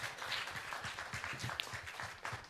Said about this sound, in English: Let's have a lot of applause for her.